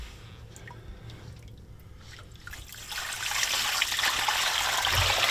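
Water running and trickling out during a boat's Yanmar engine installation, a steady splashing flow that grows louder and brighter partway through, with a low rumble beneath.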